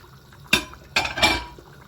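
Oxtail stew with peppers and carrots being stirred in a pot, giving a few distinct scraping clinks of a utensil against the pot with wet, thick sloshing, close up, with quiet pauses between strokes and no talking.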